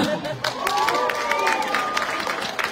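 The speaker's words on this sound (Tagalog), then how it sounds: "Palakpak naman siya" A crowd at a Chicago community event applauds an introduced speaker, with clapping and some cheering under a voice calling through a PA, at moderate loudness throughout.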